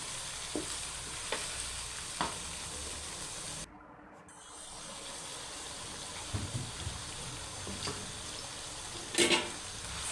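Tomato gravy for chicken gobi sizzling steadily in a pan, with intermittent scrapes and clinks of a spoon stirring, a brief dip partway through, moderately quiet and close.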